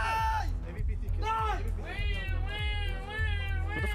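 A person's voice imitates a cat meowing during a Counter-Strike 2 Major match broadcast, giving several rising and falling, drawn-out meows over a steady bed of background noise and crowd babble.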